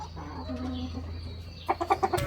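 A chicken near a clutch of eggs clucks in a quick series of short, close calls, following a low background hum.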